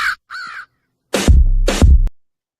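A crow caws within a played music track: two short raspy calls followed by two louder, harsher caws over a deep bass thump, close and clear.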